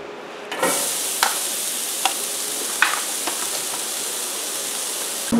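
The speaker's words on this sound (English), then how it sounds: "let's get our onions on. Got the griddle all heated up" Onions hit a preheated Blackstone 17" griddle and break into a steady loud sizzle that holds throughout, with a few sharp spatula clicks and scrapes.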